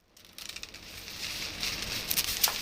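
A beaded curtain from a grandmother's house in India, hung in a kitchen doorway, gives a soft clicking rustle as people brush past, faint at first and then building into a steady patter with a few sharper clacks.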